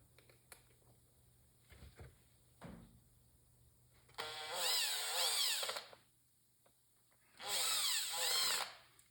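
A power tool tightens down the top of a 33 mm Mikuni carburetor for a junior dragster, with a few small clicks and then two loud, close whirring bursts of roughly a second and a half each.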